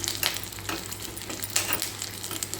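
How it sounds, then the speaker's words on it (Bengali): Curry leaves sizzle in hot oil in a pan while being stirred, with a steady close frying crackle and occasional scrapes and clinks of the spoon against the metal, no voices. "কারি পাতা দিয়ে খুব ভালো করে কিন্তু নাড়িয়ে একটু ভেজে নেবো।"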